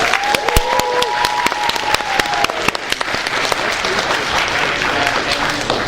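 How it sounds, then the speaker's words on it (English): A convention panel audience breaks into loud, sustained applause and cheering shouts for the Joker, dense clapping filling the whole stretch with no talk over it. "How about some applause or some shouts for the Joker?"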